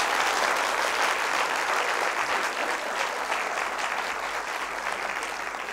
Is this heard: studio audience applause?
yes